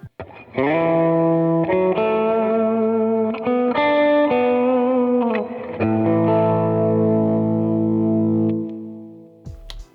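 An electric guitar plays sustained chords and notes through Strymon Timeline delay and Big Sky reverb pedals, each swell washing into a lush, echoing tail that fades out slowly.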